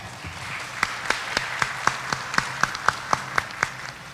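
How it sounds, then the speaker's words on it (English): A conference audience applauds with sharp, evenly spaced claps standing out over a soft wash of clapping, moderately loud and steady for a few seconds without speech. "again, big round of applause."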